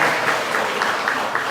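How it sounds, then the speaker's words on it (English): An audience claps steadily at a tribute event, a dense, even round of applause filling the room without a break. "Can we give Veda a big round of applause,"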